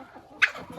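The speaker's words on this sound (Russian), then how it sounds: "индюки." A single short gobble from a turkey kept in a mixed poultry yard with hens and roosters, one brief burst at moderate distance over a quiet background.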